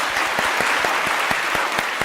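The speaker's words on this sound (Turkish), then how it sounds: "Bir de kazanan için kuvvetli alkış rica ediyorum." Loud studio audience applause for the winner of a Turkish game show, a dense steady clapping that fills the stretch alone with no talk over it.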